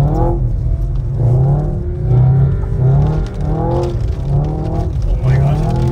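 Audi RS4 driven hard on a snowy mountain road while understeering, its engine repeatedly revving up and dropping back in rising sweeps, loud and close from inside the car, with people talking over it.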